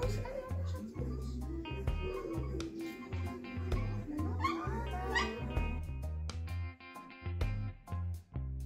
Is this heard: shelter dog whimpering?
yes